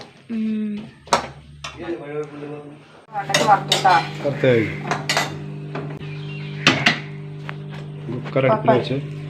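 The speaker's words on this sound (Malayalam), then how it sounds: "സാമ്പാറിന് വേണ്ട വെണ്ടയ്ക്കൊന്ന് വറുത്തെടുക്കട്ടെ" Metal utensils clatter and scrape in a pan while okra is fried for sambar, sharp irregular knocks and clinks scattered under a person talking.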